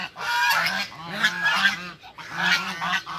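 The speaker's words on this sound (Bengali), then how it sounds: "দেখেন হাঁসগুলা" Large domestic geese honk repeatedly at a village pond, several loud, nasal calls overlapping in quick bursts close by, with a short pause midway before the honking resumes.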